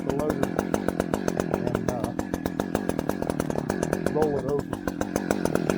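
An Echo chainsaw bucks a tree trunk, its engine snarling loud and close with a steady buzzing drone, while a person talks over it.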